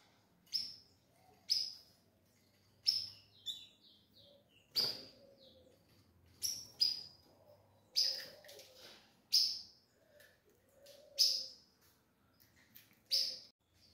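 Two young ultramarine grosbeak (azulão) chicks chirp, giving about a dozen short, high, separate calls spaced a second or so apart, close and clear against a quiet background.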